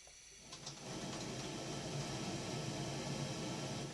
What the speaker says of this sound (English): We can do white noise or pink noise.